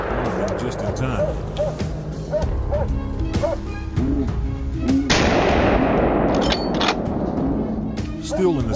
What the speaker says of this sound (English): a well-placed shot from my range dropped one of them just in time